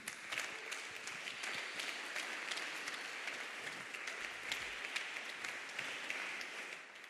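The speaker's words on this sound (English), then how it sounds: "Another big round of applause for Darren." Sustained, dense applause from a conference audience at ETHMilan 2026 in Milan, steady and fairly even for about seven seconds with no speech over it.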